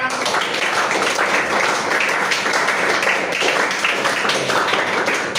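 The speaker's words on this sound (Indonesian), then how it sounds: "tepuk tangan dulu untuk kita semua" A classroom group applauding together, a dense steady wash of many hands clapping at once, loud and close, holding evenly throughout without pause.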